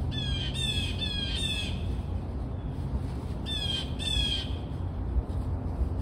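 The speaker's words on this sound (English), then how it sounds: "Another blue jay." Blue jays squawk outdoors, giving two loud harsh runs of three or four rapid calls each, separated by a pause, over steady low background rumble.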